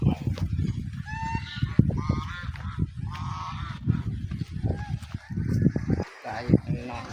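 Geese honking repeatedly in an outdoor garden, loud nearby calls in irregular bursts, with people talking over and between them.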